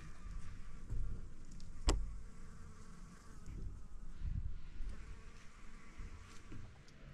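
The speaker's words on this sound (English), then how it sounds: "And then the bees." Bees buzzing around a garden bed with marigolds in Alaska: faint, wavering insect drones that rise and fade as they pass, with one sharp click near the start.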